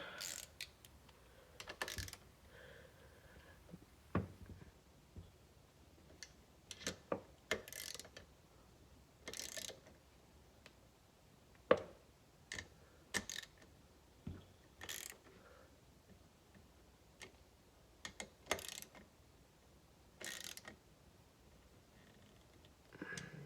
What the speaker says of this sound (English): Go ahead and start tightening these down in sequence.